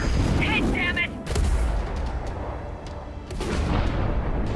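In Ace Combat 7, a heavy weapon fires with deep booming blasts and rumbling explosions, loud and near, followed by lingering roar, with game voices and radio chatter mixed in.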